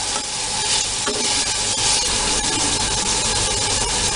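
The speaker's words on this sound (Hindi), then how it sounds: "इसके बाद डाला है पाइन एप्पल, और इसको मीडियम होते पे कुक करना है" Pineapple cooking in a pan over medium heat for chutney gives a loud, steady sizzle with continuous stirring and scraping, no voices.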